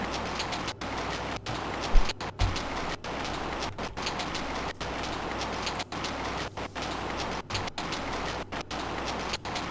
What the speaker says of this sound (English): Alexander feels a drop. It starts to rain.